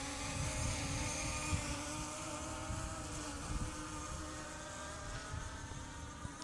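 A beginner GPS drone flies over a soccer field in wind, giving a faint, continuous high-pitched whine under steady gusty wind rumble, with the level holding roughly even throughout and no speech.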